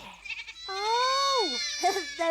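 Sheep on a farm give a long wavering bleat, followed by shorter bleats, heard close and clear.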